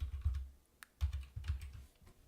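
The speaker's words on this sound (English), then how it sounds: "double clicking them and typing the new name." Quick bursts of keystrokes on a computer keyboard while typing a new name for a spreadsheet tab, soft clicky taps in short clusters, close and quiet.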